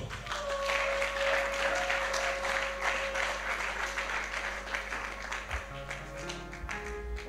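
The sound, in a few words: audience applause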